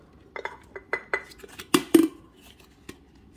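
Hinged lid of a Mainstays 12-cup programmable coffee maker's carafe being handled and lifted off, giving a run of light plastic clicks and taps followed by two sharper clacks, close and alone.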